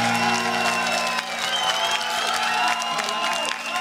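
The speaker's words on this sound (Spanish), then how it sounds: "Un aplauso para Gloria Trevi" A studio audience on a Mexican TV variety show applauds and cheers for a Gloria Trevi impersonator, with a steady, dense wash of clapping and crowd noise, loud and close, lasting throughout.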